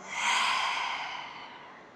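A single slow, breathy exhale during a yoga flow in a studio, close and soft, swelling then gradually fading over about two seconds, with no talking.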